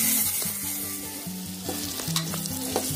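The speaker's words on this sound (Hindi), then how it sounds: "देखिए प्याज भी लाल हो गई और साथ ही साथ ये सोयाबीन भी अच्छे से फ्राई हो गया है।" Onion and soybean pieces frying in oil for a lauki sabzi, a continuous bright sizzle with rhythmic scraping strokes of a spatula stirring, close and steady, with no voices.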